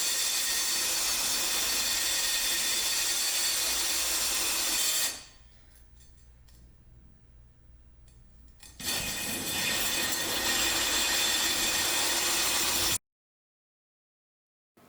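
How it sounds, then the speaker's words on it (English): A steady, harsh grinding hiss of a drill boring slowly through a glass block with water runs for several seconds, drops to near quiet, then resumes before cutting off abruptly. "make sure you drill slow and you use enough water."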